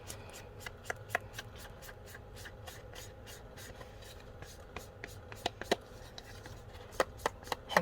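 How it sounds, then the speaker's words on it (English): A Delicata ink pad is rubbed and dabbed along the edges of a card base, producing soft repeated tapping and scuffing sounds at an irregular rhythm over a quiet background. "now we're going to ink the edges of our card base"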